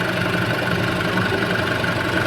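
A Mitsubishi Triton with a turbo diesel engine idles close by with the hood open, giving a steady, even running note with a faint knock throughout and no talking.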